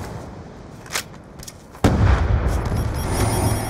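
EMP grenade detonating in the video game Black Ops 2, a sudden heavy boom followed by a sustained loud rumbling wash of noise after a faint earlier pop.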